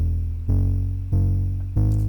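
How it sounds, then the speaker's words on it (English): Synth bass played through Ableton's Redux bit crusher and downsampler, three loud sustained notes in a row with a gritty, buzzy low tone, each note starting with a sharp attack and fading slightly, heard alone without talk. "I found Redux, which I'm guessing is Ableton's bit crusher or downsampler."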